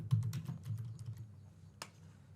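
Someone types a short workflow name on a computer keyboard, a quick run of light, close clicking keystrokes with a louder final tap.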